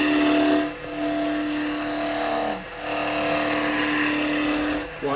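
A woodturning tool shears a spinning blank on a lathe as it is brought to round, giving a steady, loud rasping scrape under a constant motor hum, broken by two short pauses where the tool lifts off.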